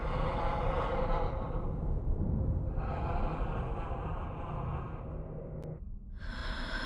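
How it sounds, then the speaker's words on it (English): Heavy, muffled breathing from behind a mask fills the clip, close and steady with long drawn breaths and a brief drop near the end, no talk. "and we just hear heavy breathing."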